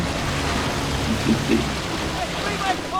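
Rain falls as a steady broadband hiss in the LEGO Jurassic video game, continuous and fairly loud, with a few faint game tones and a voice mixed in underneath.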